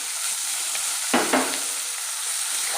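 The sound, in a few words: onion and green chili frying in pan with chicken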